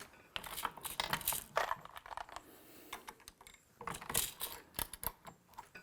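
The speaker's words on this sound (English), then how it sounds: "We can now run up the press and start to load progressively." Lee Pro 1000 progressive reloading press being cycled while loading 45 ACP cartridges, a faint series of close mechanical clicks, clacks and metallic rattles at an irregular pace.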